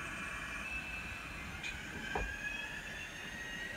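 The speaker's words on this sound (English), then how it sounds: "That sounds very much like a EMD again with a turbo." An N scale model locomotive with a DCC sound decoder plays an EMD diesel with turbo, a quiet, steady engine drone with a faint metallic squeal and a brief click partway through.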